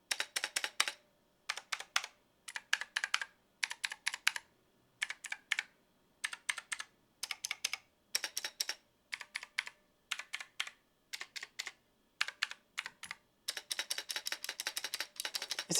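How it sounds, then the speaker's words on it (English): Fast typing on a $25 MK Mini mechanical keyboard, bursts of crisp clattering keystrokes separated by short pauses, then a longer continuous flurry at the end, close up with no talk. "Like the MK Mini sounds like a broken keyboard."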